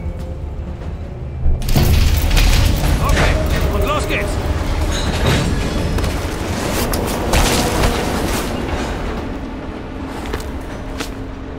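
In the Call of Duty: Black Ops Cold War game, a train brakes and keeps rolling, a loud, dense rumble with metallic screeching and clanks that swells after a brief quiet start and runs steadily under short spoken remarks.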